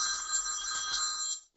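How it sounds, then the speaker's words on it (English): A telephone rings with a bright, trilling electronic bell, one continuous burst that cuts off abruptly, heard at moderate distance with no talking. "Shut up, phone. I'm going to turn that off."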